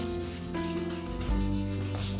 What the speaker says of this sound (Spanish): una lija del número 400 para dar una segunda mano